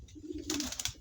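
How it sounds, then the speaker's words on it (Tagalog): Pigeon in a fancier's loft at afternoon feeding, cooing as a low, near call over about a second, followed by brighter fluttering or rustling. "Ito naman sa ibon natin, si Totoy Guapo."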